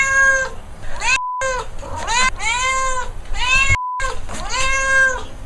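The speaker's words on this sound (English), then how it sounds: "I'm just going to ask my cat Wallace to take it from here" Pet cat meowing repeatedly and close, a series of drawn-out, wavering cries in quick succession, loud and clear with short silent gaps between them.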